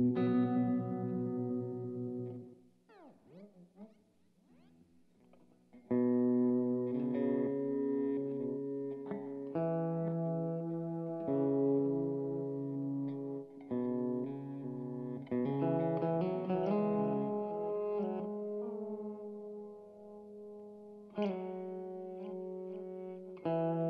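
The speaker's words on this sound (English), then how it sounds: "All right, let's jump into our reverse delay." A guitar plays through the reverse delay setting of a Source Audio Collider pedal, sustained notes and chords swelling backward with washy repeats, a pitch-bending phrase and a brief quiet gap early on, with no talking.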